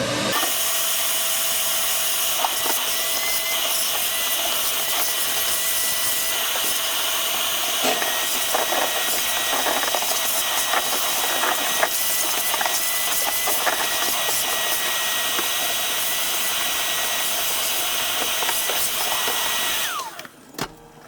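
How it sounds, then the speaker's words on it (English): A vacuum cleaner roars steadily while sucking leaves and debris out of the seats of a 2018 Party Barge pontoon boat, a loud, close whine with bumps and rattles before it cuts off at the end. "We'll vacuum out all the leaves and stuff and clean this seat up a little bit."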